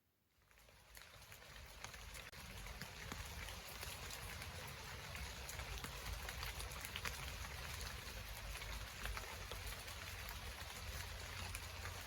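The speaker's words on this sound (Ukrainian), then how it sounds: "Так це ж шум дощику." Rain falls as a steady, soft, even hiss of drops that holds at a constant level throughout, quiet and without any talk.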